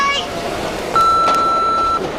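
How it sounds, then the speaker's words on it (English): An answering machine beep sounds as a single clear, steady electronic tone lasting about a second, preceded by a brief fainter blip and set against a light background hiss. "you can leave a message after the beep"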